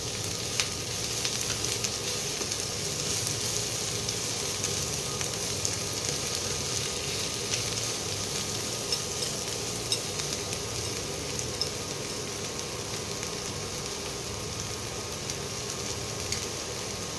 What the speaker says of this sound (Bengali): বেগুনটা একটু ভাজা ভাজা হোক এই পেঁয়াজটা একটু ভাজা ভাজা হোক